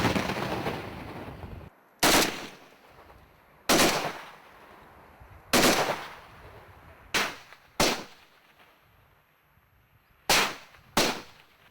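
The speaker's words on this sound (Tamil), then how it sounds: "கனரக ராக்கெட் லாஞ்சர் மற்றும் உயர் ரக தானியங்கி துப்பாக்கிகள் மூலம் பாகிஸ்தான் படைகள் தாக்குதல் நடத்தின" Sharp bursts of gunfire during a ceasefire violation by Pakistani forces in Jammu and Kashmir, seven loud separate cracks spaced a second or two apart, each dying away quickly into a lingering noisy background.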